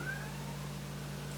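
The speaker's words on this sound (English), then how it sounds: "Sorry about the cat meowing in the background." A house cat meows once in the background, a short faint rising call near the start over a steady low indoor hum.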